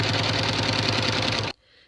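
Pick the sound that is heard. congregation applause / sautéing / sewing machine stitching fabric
sewing machine stitching fabric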